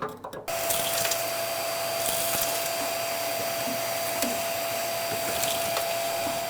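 A shop vacuum cleans caked ash and residue from the bottom of a Harman Accentra 52i pellet stove insert, giving a steady, loud whine with a constant tone that runs the whole time after a brief start, with no talk.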